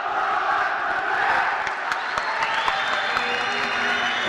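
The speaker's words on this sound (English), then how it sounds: "I'm sure you can hear the Moroccan crowd" A Moroccan crowd at an African Olympic qualifying boxing final roars steadily through the arena, with whistle-like tones and shouts in a continuous, dense wash of noise.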